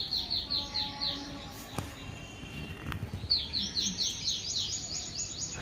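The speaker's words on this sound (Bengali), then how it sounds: "আর চারিদিকে পাখির ডাক।" Small birds chirp in quick repeated tweets on a calm morning outside, first in one burst, then a pause with a couple of faint knocks, then another run of chirping.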